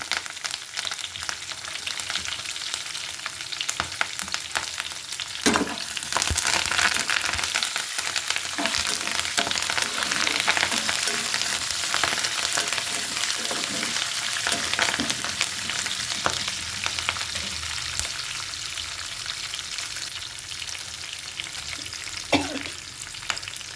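Green chillies and curry leaves frying in hot oil for raw mango pulihora, a dense, steady crackling sizzle with a few occasional stirring knocks, close and continuous.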